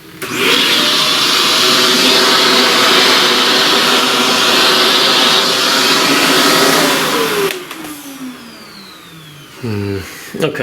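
A vacuum cleaner sucking up pastel dust from a drawing, a loud steady whine for about seven seconds that winds down as the motor is switched off, followed by brief clicks and handling noise.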